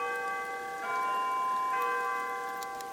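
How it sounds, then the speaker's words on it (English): In Animal Crossing New Horizons, the town hall's hourly church bells ring in two soft strikes, each leaving a long, steady ringing tone that hangs over the whole passage. "the church bells that play every hour from the town hall"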